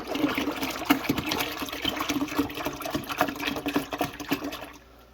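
Sweet apple cider is poured from a big bottle into a brewing container, a soft gurgling, splashing pour with uneven glugs that trails off at the end.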